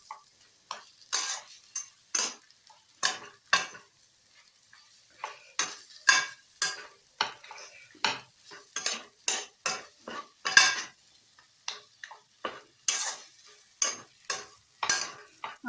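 Vegetable chop filling stirred in a pan with a spoon, a close, regular series of scraping strokes at a steady rhythm over a quiet background.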